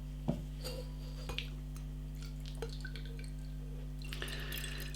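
Knee Deep Simtra triple IPA beer poured into a glass, with faint liquid trickling, small drips and a few light glassy clinks over a steady low hum, no speech.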